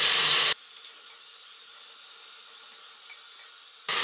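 Chopped tomatoes hit a pan of sautéed onion and garlic, giving a loud burst of frying hiss that drops to a steady softer sizzle, then flares loud again at the very end.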